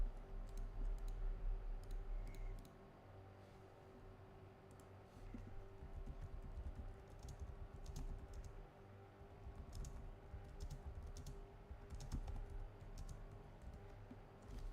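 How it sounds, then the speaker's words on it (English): Quick typing on a computer keyboard, light clicking keystrokes in irregular bursts over a steady low hum of racing game audio, fairly faint and close. "typing something real quick."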